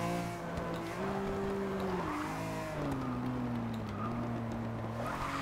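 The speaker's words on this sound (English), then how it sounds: "I blip on the downshift." Manual car drifting with the handbrake and clutch, engine note rising and falling through a downshift blip, a steady loud drone with stepped pitch changes and some tire noise, no talk.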